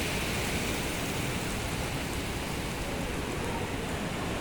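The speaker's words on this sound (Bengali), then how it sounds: "প্রচুর বৃষ্টি হচ্ছে" Heavy rain pours down steadily beside the sea, a dense, unbroken hiss that stays loud and even for the whole stretch with no voices over it.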